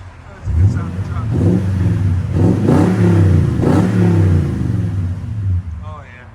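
Toyota Tundra 5.7L V8 on an aftermarket exhaust, revved hard several times in a row: loud, deep rising and falling surges close by, then settling toward idle.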